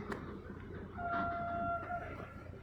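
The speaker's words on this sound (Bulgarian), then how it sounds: "Ето и оттам идва другия влак." A train approaches Iskar railway station, with a steady rumbling roll and a two-tone horn sounding for about a second, moderately distant and without speech.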